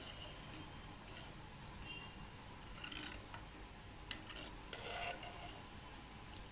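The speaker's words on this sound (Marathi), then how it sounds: "आता यामध्ये आपण शिजलेला अख्खा मसूर ॲड करूया आणि हे व्यवस्थित मिसळून घेऊया" A spoon stirs cooked whole lentils into an oily masala in a pot, making soft scraping and occasional light clinks against the metal over a low background hiss.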